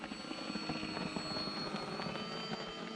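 An E-flite Valiant RC plane flying passes at about three-quarter throttle over a beach, its electric motor and propeller giving a steady, fairly loud buzzing drone with a high whine that holds throughout, no voices heard.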